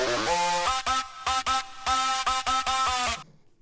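A musical loop section pitched down a full octave plays as a repeating, rhythmic sequence of tonal hits with short gaps between them, stopping abruptly before a brief silent tail.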